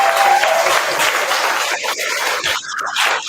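Applause from a group of students, a dense broadband patter of many hands clapping steadily, fairly loud and close, thinning out toward the end.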